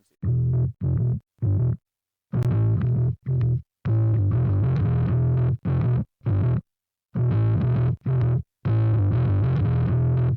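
A heavily distorted metal bass guitar, run through a high-shelf EQ boost before the amp, plays loud, chunky riff phrases broken by short silent gaps.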